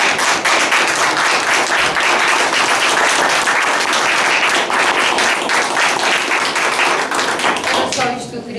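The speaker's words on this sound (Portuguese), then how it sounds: "eu peço uma salva de palmas" An audience at a book presentation for a novel in a library in Carregado breaks into sustained, dense applause, loud and continuous throughout before tapering slightly at the very end.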